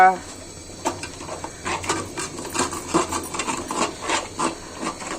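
A spoon scrapes and clinks in a pan of Bengali fish head curry (muri ghonto) with dal, giving repeated irregular rubbing and tapping strokes at close range with a low hum beneath.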